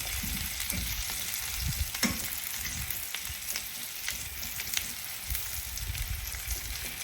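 Mushrooms sauté in a hot pan for a soup or stew, giving a steady, close crackling sizzle throughout with a few louder pops.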